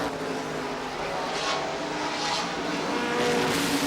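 NASCAR stock cars at Watkins Glen in 1986 race down the backstretch, engines droning fairly faint and distant with a few swelling passes and no talk.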